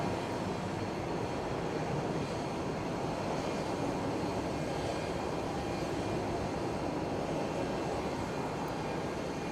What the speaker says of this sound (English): looks like they are bringing one of the American Airlines planes into a gate.